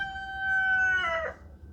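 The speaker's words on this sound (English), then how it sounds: "That's Stan. He's the rooster." A rooster named Stan crows once, a single long harmonic cock-a-doodle-doo that holds steady then breaks and drops off at the end, fairly close, over a low background hum with no talking.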